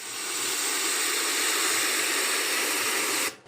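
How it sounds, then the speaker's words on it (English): An ocean wave sound effect gives a steady, hissing wash of surf that swells in at the start, holds evenly, and then cuts off abruptly. "So these are different ocean wave sounds, so you can play it and listen to how it sounds like."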